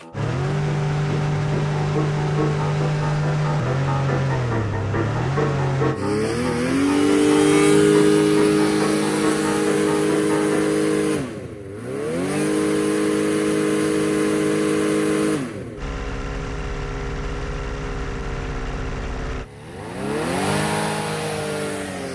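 A high-horsepower hovercraft engine revs hard while trying to push through tall grass on an abandoned railroad. It gives a loud, close, sustained drone that rises and falls in pitch, with several brief dips where the throttle eases.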